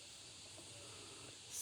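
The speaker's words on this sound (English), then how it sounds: "Oh my God, the cicadas are so loud today." Loud cicadas outdoors, a continuous high buzzing drone held steady throughout, alone with no talk, swelling slightly at the very end.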